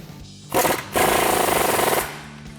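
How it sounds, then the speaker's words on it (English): Power tool driving a 21mm swivel socket to tighten upper control arm bolts on a 2019-2025 RAM 1500: a short loud burst, a brief pause, then a longer sustained rattling whir of about a second before it stops, close up with no talk. "I've got a 21mm swivel socket that I'm gonna use to tighten down those two bolts."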